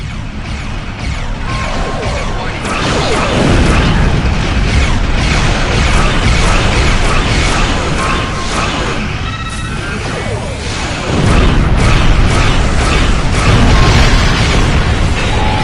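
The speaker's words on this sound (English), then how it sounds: "Press the circle button to activate high-yield torpedo." A high-yield torpedo is fired and explodes in the Star Trek Online space game, amid dense, loud, continuous roaring blasts and crashing combat noise that swells again near the end.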